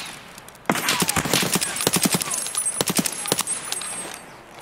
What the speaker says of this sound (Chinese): 左边在开火